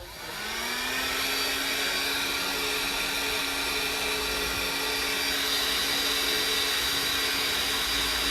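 A heat tool blows hot air onto a WoodUbend moulding to soften it before cutting, giving a steady, loud whirring hiss with a faint whine that holds constant for the whole stretch.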